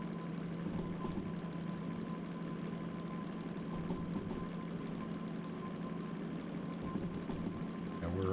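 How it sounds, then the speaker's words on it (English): A DM3 locomotive in the Derail Valley game, harbor to steel mill run, with a steady, tractor-like diesel drone and a low chugging hum that holds even and unbroken, moderately loud and alone. "I really like the sound of this locomotive."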